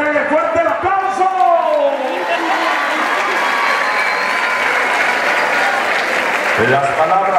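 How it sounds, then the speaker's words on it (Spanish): Crowd applause and cheering fill a rodeo arena at a ranch event in Morelos, loud and sustained throughout, with an announcer's amplified voice talking over the clapping. "¡Regálele fuerte el aplauso!"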